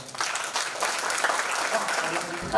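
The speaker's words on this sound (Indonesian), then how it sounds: "Mohon tepuk tangannya dong." A short burst of steady applause from an audience at an Indonesian exposition session, dense clapping that continues evenly throughout before a voice cuts in at the very end.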